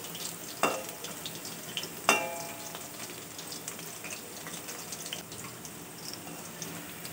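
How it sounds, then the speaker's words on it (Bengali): Chicken balls frying in oil over a low gas flame give a steady, soft sizzle throughout, with two sharp clicks early on and no voices. "গ্যাসের আঁচটা একটু কম করে দিয়ে কিন্তু এগুলো ভেজে নিতে হবে"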